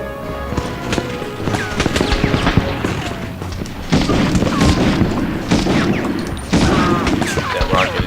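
In the Medal of Honor video game, rapid gunfire and heavy booming blasts, likely including a rocket, crash together in a dense, loud barrage, with voices mixed into the chaos.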